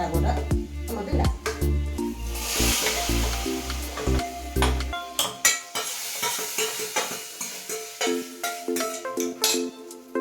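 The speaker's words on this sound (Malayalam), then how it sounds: "കടുക് വറുത്ത കടുകും എല്ലാം കൂടെ അങ്ങോട്ട് നമുക്കിടാം." Mustard seeds sizzle and crackle in hot oil while frying for a Kerala jackfruit seed and mango curry, with clattering stirring and pot sounds over a steady frying hiss; background music plays.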